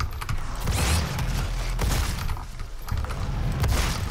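Dense, loud gunfire from the video game Doom, a continuous barrage of shots and booms with mechanical clanks running through the whole stretch, without pauses.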